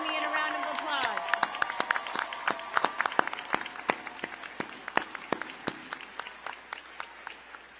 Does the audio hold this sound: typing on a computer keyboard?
no